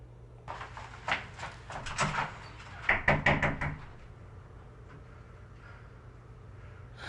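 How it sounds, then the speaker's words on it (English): Knocking on a door in an interactive movie video game: a series of sharp wooden raps in two bursts, the second louder and quicker, followed by a quiet room tone, with no voices. "she knocked on the door"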